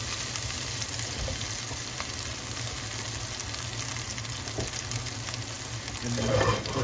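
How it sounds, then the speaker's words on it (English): Peppers and onions sizzle steadily in a pan, a constant crackling hiss with occasional stirring clatter, swelling slightly near the end. "And then with all of this, we're just going to cook our peppers and onions."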